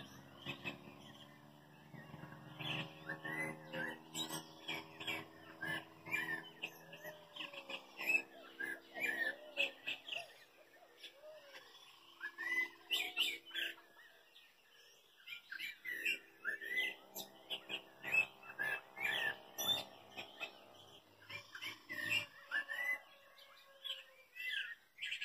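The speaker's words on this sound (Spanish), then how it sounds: "Abundan los pajaritos." Small birds chirp and tweet at dawn on a ranch, many overlapping calls in quick bursts, some near and some farther off, with a brief lull midway and no talking over them.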